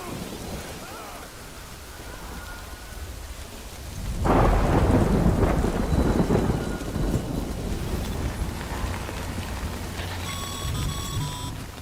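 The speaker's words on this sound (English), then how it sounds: "Good thing it was raining" Rain falls steadily in the video game Death Stranding 2, then a deep rolling thunderclap booms in and slowly rumbles away under continuing downpour, with faint electronic tones near the end.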